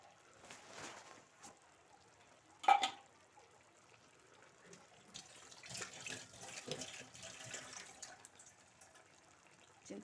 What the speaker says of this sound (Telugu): చింతపండు రసం వేసాం కదా